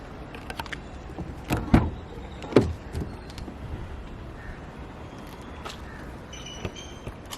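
A 2015 Audi A4 S Line responding to its older-style key fob, with two distinct thunking lock actuations a second apart amid quiet surroundings and a few faint clicks afterward.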